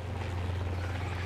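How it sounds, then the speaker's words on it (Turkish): A steady low mechanical drone of a Minecraft helicopter's rotor and engine hums continuously, loud and unbroken, with no voices. "Bu helikopter de kullanması azıcık zor."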